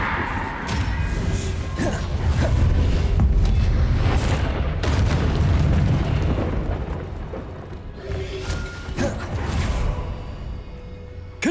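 Confringo blasting spells from the Hogwarts Legacy video game set off loud, continuous booming explosions with crashing debris and rumbling impacts that run without a break through the whole stretch.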